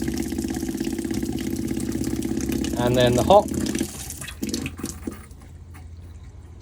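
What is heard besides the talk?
motorhome water pump running and tap water flowing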